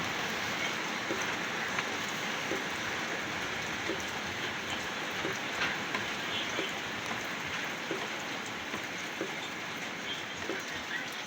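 Continuous, dense heavy rain from Typhoon Basyang hisses steadily at a low level, an even wash of sound with faint patters and no voices.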